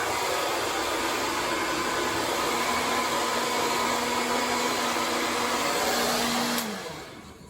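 A hair dryer blows steadily to heat hair rollers, a loud, even whooshing hum held close for about six and a half seconds before it winds down and cuts off.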